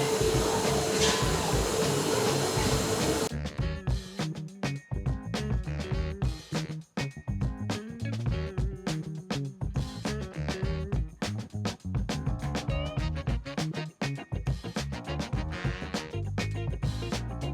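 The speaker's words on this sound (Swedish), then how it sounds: "Sen har vi någonting som heter dammsugare." A vacuum system on a packing machine in a blue-cheese factory roars continuously, with rapid rhythmic suction pulses and clattering machinery over a loud industrial hum.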